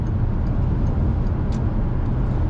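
A car cruising in fifth gear after smooth gear changes gives a steady, close, low engine and road drone with an even level throughout. No one speaks.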